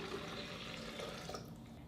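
Two cups of water pour steadily into a Vitamix blender container for a few seconds, a continuous splashing gush at moderate loudness with no talk.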